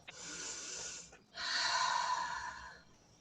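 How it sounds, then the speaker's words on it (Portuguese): A group of people in an art therapy workshop takes a deep breath, with a long airy inhale followed by a fuller, louder exhale, soft and close with no talking. "uma respiração funda"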